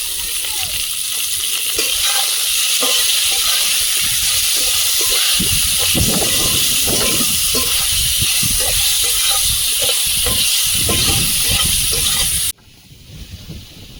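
Potatoes frying in a pan give a loud, continuous hissing sizzle that runs steadily and then cuts off sharply near the end.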